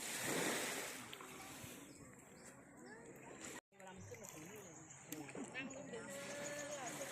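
Waves washing onto Pan Yang beach on Libong island in Trang, Thailand, a steady surf wash and wind under someone talking nearby for most of the time.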